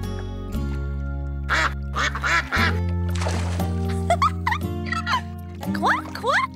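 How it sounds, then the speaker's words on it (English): Baby ducks give a series of short, distinct quacks over sustained background music tones, with the quacks scattered throughout. "Grace, Grace, come see the baby ducks!"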